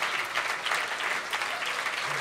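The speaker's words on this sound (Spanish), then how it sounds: "he visto exactamente dónde ha empezado el aplauso" An audience at a comedy talk show breaks into steady, dense applause that fills the whole moment, loud and sustained without speech.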